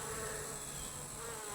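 Surviving bees buzz steadily among dead hives where millions of bees died, a continuous close insect drone with no speech.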